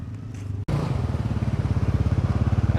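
A motorcycle engine runs close by, first a brief low rumble, then after an abrupt cut a steady, pulsing putter as the bike rides on, loud and without speech.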